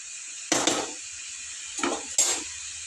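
A spoon stirs bottle gourd curry in a pan over a constant low sizzle, with two or three brief scraping bursts close by.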